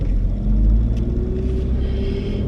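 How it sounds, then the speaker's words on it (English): A loud car engine rumbles steadily from inside the cabin while driving, a deep low drone with slight shifts in pitch and no talking. "Still got the same car, so yeah, it's pretty loud."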